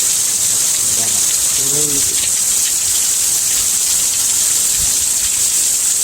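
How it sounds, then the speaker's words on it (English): A heavy spring rainstorm in Oregon pours down as a loud, steady hiss of rain, with a brief spoken word early on. "here's a crazy rainstorm"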